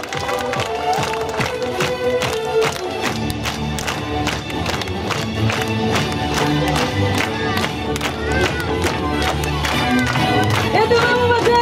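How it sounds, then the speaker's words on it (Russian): An audience at a fairy-tale games festival in Belaya Kholunitsa applauds loudly and continuously with some cheering, mixed with music playing underneath. "Аплодисменты!"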